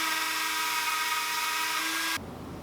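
A Dremel rotary tool whines steadily at high pitch while rounding the edges of a lipless crankbait lure, running continuously and close up before cutting off abruptly near the end.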